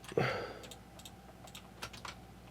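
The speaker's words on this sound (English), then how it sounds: "We're just going to press E on the keyboard and then scale them in." Typing on a computer keyboard during 3D modelling work in Blender: a sharp keypress followed by a few lighter, scattered key taps, close and fairly quiet.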